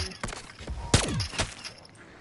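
Marksman rifle gunfire in Call of Duty, several sharp shots with one prominent loud crack near the middle, set among scattered game noise, brief and close.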